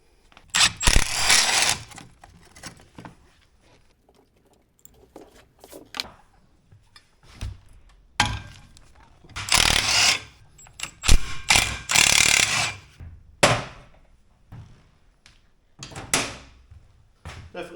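Working on a 1967 Jaguar E-Type front end, a wrench undoes the small nut on a brake pipe bracket with scattered metallic clicks, ratcheting and clanks in irregular bursts and pauses, close by with no talking.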